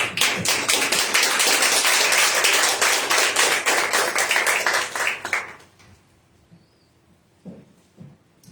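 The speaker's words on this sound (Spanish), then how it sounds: "Dale palmas de alabanza que viva" A church congregation claps in praise during a sermon, a dense, sustained round of rhythmic hand claps filling the room for about five seconds before dying away into near quiet with a few faint stray sounds.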